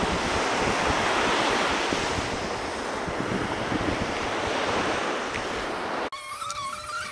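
Baltic Sea waves break on the shore with steady wind buffeting the microphone, a dense continuous roar that drops away sharply near the end.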